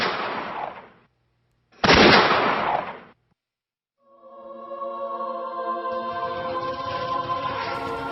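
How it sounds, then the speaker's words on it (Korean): Gunfire rings out on a seaside sandbar in a 1950 Korean War documentary scene: two long, harsh bursts of shooting separated by silence, followed by a sustained tonal drone. "어느 바닷가 모래밭에서 날카로운 총성이 울려 퍼졌다"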